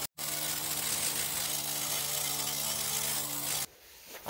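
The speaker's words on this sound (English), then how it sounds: "The wire wheel wasn't great at removing all the caked on grinding dust inside the guards, so I broke out the needle scaler." A needle scaler chatters loudly and steadily against bench grinder guards, knocking off caked grinding dust, running near and continuous for about three and a half seconds before cutting out abruptly.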